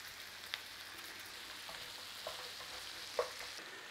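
Onions fry gently in a pan with salt and black pepper, a soft even sizzle with a few faint stirring clicks, quiet and steady.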